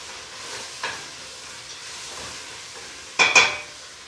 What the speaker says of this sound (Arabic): نخلطوهم مليح ونخلوهم يتقلاو